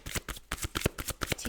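Tarot cards being shuffled by hand, a quick close riffle of rapid papery flicks and slaps in an irregular rhythm, alone and fairly quiet.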